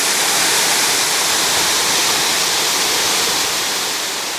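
A waterfall pours over eroding limestone into a creek, making a loud, unbroken rushing roar that fills the whole scene, with no voices present.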